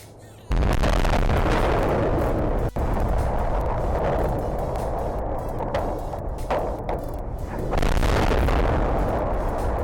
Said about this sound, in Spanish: La explosión del SN10.